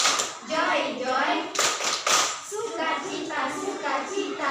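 Classroom of fifth-grade children clapping hands in rhythm during a group clapping song, sharp claps mixed with lively young voices chanting and talking over them.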